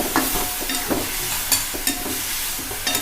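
Dry bombil fish for a green chilli chutney fries in oil with a continuous bright sizzle and several clicking stirs of the spoon in the pan.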